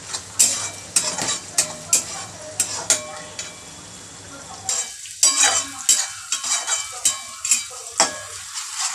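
Tomatoes and onions being sautéed in a pan, with a steady close sizzle and repeated scraping, clinking strokes of a spoon stirring against the metal; the sizzle thins out partway through while the stirring continues.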